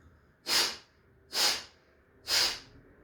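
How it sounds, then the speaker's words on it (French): Three forceful pranayama exhalations are pushed out through the nose, evenly spaced about a second apart, each a sharp, close, breathy rush of air in an otherwise quiet room. "Je vais venir rentrer le vent de manière volontaire et en chassant l'air avec le nez."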